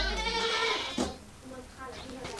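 Goats on a small farm bleat in a couple of short cries near the microphone, with some livestock rustling between calls.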